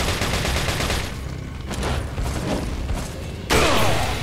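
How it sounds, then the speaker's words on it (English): Rifle fire and weapon mechanisms in Resident Evil 4, a dense burst of shots followed by a sharp louder blast near the end, close and loud, no talk. "let's let's see if we can rifle him real quick"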